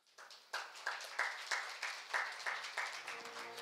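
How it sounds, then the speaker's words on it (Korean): Audience applause for presenters and panelists at the close of a panel session at an international electricity market conference, heard as a modest, moderately distant round of clapping that starts in a few separate bursts and then settles into a steady patter. "좋은 발표와 토론을 해주신 발표자와 토론자분들에게 큰 박수 부탁드립니다"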